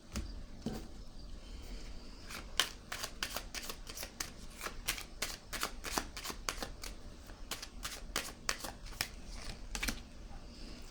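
Tarot cards shuffled in steady, quick riffling bursts, a long run of crisp snapping flicks at close range with no talking over them.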